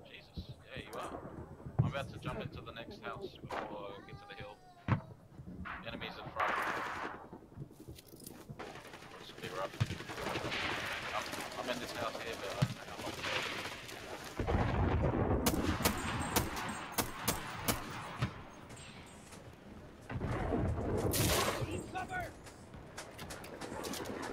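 Sniper gunfire in the World War trench shooter Enlisted cracks out in scattered sharp shots amid rumbling battle noise and clattering, with a player talking over much of it.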